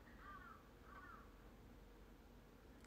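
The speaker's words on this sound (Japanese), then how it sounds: "カラス鳴いてるんだけど、この時間に。" A crow caws twice, faint and distant, in quiet late-night surroundings, with a low steady background hum.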